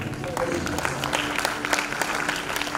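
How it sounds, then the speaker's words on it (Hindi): Audience applause for children at an award ceremony in India, a steady wash of many hands clapping at moderate distance, continuous throughout with a faint voice underneath. "मैं चाहूँगा इतनी जोरदार तालियां उन बच्चों के लिए होना चाहिए"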